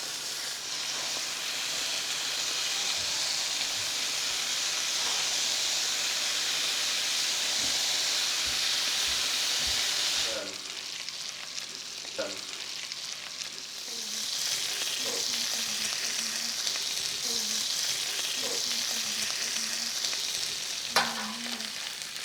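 Slices of home-cured, smoked bacon fry in a hot cast iron pan, giving a loud, continuous sizzle with occasional light clatter, then a softer spitting crackle.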